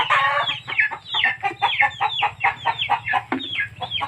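Hens clucking in a steady run of short, choppy calls at close range, with a low steady hum underneath throughout.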